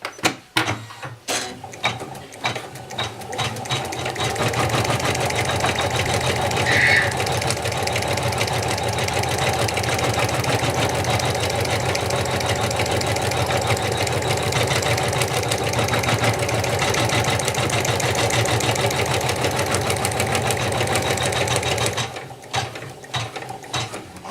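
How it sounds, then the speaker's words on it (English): An embroidery machine sews a placement stitch on stabilizer for a felt appliqué, its needle mechanism running in a fast, steady, close mechanical whir for about eighteen seconds between brief start-up and stopping clatter. "I'm going to go ahead and do the placement stitch."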